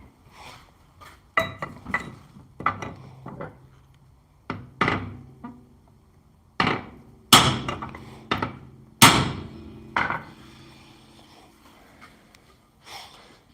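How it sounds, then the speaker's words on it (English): A 5.5 pound hammer strikes an axe head on a steel swage block to seat it on the handle, about a dozen loud, sharp ringing blows at uneven intervals, each decaying quickly, alone without talk. "take it over to the swage block again here and give it a couple of whacks with the"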